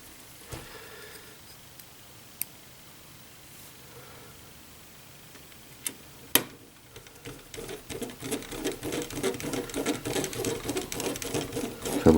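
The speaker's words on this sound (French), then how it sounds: "C'est un drôle de bruit quand je visse." Screws are driven into parts of a 1/8-scale Eaglemoss Ecto-1 model, with a few faint clicks giving way to a growing, scratchy, rapid buzzing that builds and stays loud toward the end.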